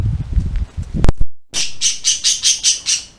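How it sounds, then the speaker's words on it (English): A pet budgie chirps close by in a series of about six evenly spaced sharp, high calls, following a brief burst of rustling and handling noise. "What's up, my little budgie?"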